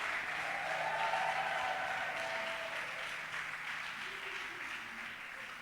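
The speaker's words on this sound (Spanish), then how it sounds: "Apláudale fuerte a Dios." A church congregation claps loudly together during a sermon, a dense, sustained applause that peaks early and then slowly thins, with faint voices underneath.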